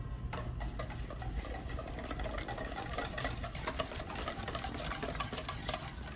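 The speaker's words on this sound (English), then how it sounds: "I'm just going to whisk that all together" Horseradish and Worcestershire sauce are whisked together in a quick, steady rattling rhythm that is faint and close, with no talking.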